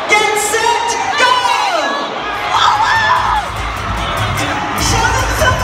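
A large crowd of students cheers, whoops and shouts continuously and loudly at a high school rally, with excited voices rising and falling throughout.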